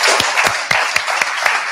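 Audience at a live pitch evening clapping in a room, a dense wash of many hands with a quick, steady rhythm of sharper claps standing out throughout.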